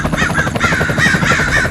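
A crow caws loudly and close by in a quick run of repeated harsh calls over steady background noise.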